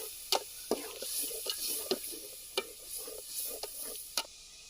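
Onion and tomato puree frying in a pan outdoors in a forest, a steady sizzle with a spoon stirring and scraping in regular strokes, close and without talk.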